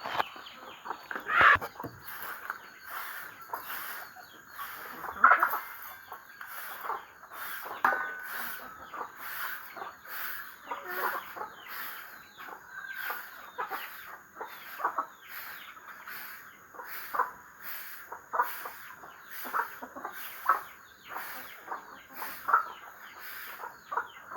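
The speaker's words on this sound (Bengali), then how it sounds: "আমার মুরগি কটাকে খাবার দিয়ে দিচ্ছি।" Backyard chickens being fed cluck steadily and close by, with repeated short calls overlapping throughout and no talk.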